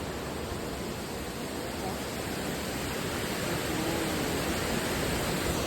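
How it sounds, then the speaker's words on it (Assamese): Seven Sisters waterfall at Cherrapunji, a steady broadband roar of falling water that holds unbroken and loud throughout, with no voices over it. "এয়াই হৈছে চেৰাপুঞ্জী ছেভেন চিষ্টাৰ ৱাটাৰফল"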